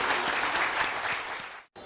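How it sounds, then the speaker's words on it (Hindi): Enthusiastic audience applause welcoming a speaker at a DXN marketing plan presentation: dense, steady clapping from a crowd that fills the room, then cuts off abruptly near the end. "Mister KM. रफीक जी को जोरदार तालियों से स्वागत कीजिए।"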